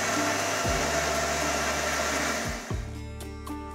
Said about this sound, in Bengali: জল দিয়ে এখন এটাকে ব্লেন্ড করে দিচ্ছি।